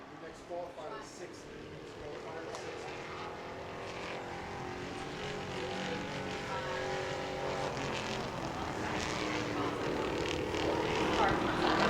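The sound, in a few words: pure stock Monte Carlo race car qualifying at speedway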